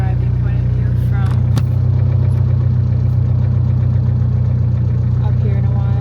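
A car's engine turns over and settles into a steady, loud, close idle with a low rumble and faint knocking, running continuously throughout.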